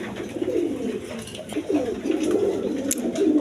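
A pair of Lahori pigeons cooing nearby, low rolling coos repeating in a loose rhythm alongside faint background rustle.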